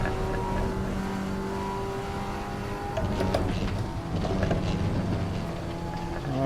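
An Audi TT Cup race car engine in a racing game screams at full throttle at Portimao, a steady loud drone with harmonic whine that shifts pitch through gear changes and a brief lift, heard alone.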